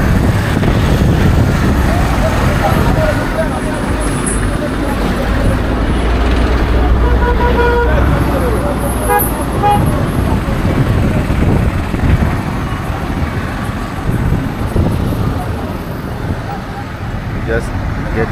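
Street traffic rumbles through Mombasa, Kenya, with buses, cars and matatus passing in a steady loud roar, engines droning throughout and a few faint high toots far off.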